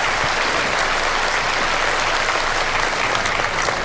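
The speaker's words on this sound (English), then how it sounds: "give a real hearty applause both for our president and for the family" A large congregation applauds at the 2022 state funeral service for Kenya's late President Mwai Kibaki. The clapping is thick, sustained and even throughout, a broad wash of many hands with no speech on top.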